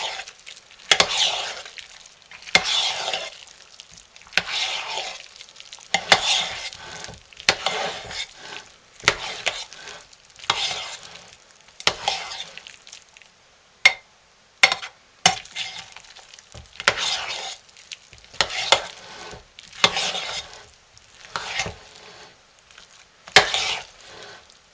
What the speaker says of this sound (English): Now we will put our Pomarosa and lavender in and stir that up.